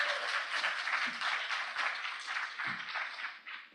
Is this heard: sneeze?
no